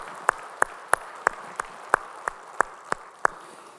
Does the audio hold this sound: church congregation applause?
yes